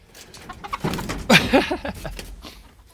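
Chickens cluck at a portable chicken coop in a short flurry of quick, close calls, then quiet down again.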